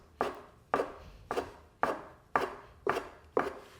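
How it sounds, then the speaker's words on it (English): A knife chops through a flat sheet of dough about 2 to 3 millimetres thick, slicing it into noodle strips: seven crisp, evenly spaced cuts, each a sharp close thud with a short scraping tail against the board. "I've got a sort of flattish 2 to 3 millimeter thick piece of dough that I'm going to cut into little noodle strips"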